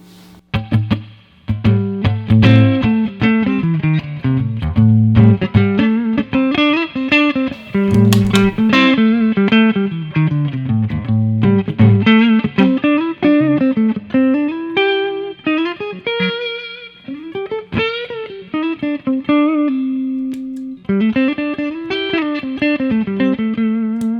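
Electric guitar through an overdrive pedal plays a continuous melodic line with chords and single notes, loud and sustained, with no talking.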